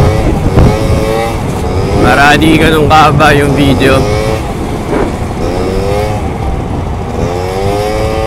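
A motorcycle engine drones steadily during a ride home, under someone talking close to the microphone.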